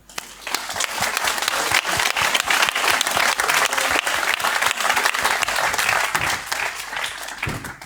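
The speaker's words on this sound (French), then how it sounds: "Je pense qu'ils méritent d'être applaudis." The audience at an economic conference at the Foire de Savoie in 2019 breaks into applause. Dense, energetic clapping rises quickly, holds steady and eases off slightly toward the end, with no speech over it.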